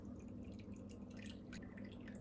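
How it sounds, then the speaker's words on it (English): Water poured slowly into a crumpet dough mix of freshly milled flour, making a faint, steady trickle that runs for about two seconds over a quiet indoor background. "So pouring slowly because you can't take back water."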